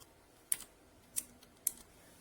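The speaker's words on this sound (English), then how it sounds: "So here's the second activation sound." A HyperX Alloy Origins Core tenkeyless mechanical gaming keyboard gives three sharp, separate key clacks, spaced roughly half a second apart against a quiet background.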